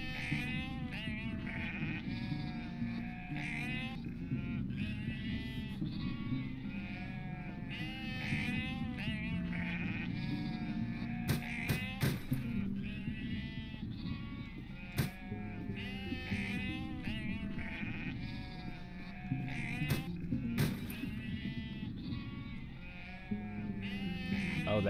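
About 250 sheep bleat over and over in a video game, a whole flock in a corridor of UnMetal, with overlapping wavering cries forming a steady chorus and a few sharp clicks cutting through.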